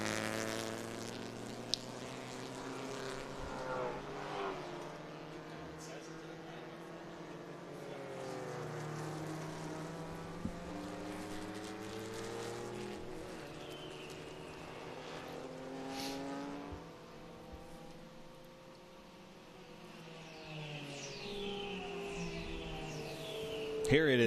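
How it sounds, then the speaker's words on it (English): A Porsche 914 and a BMW racing on a long straight at Virginia International Raceway make rising and falling engine notes as they pass, under steady commentary voices. "I wasn't expecting a 914 to outrun the BMW on the long straight."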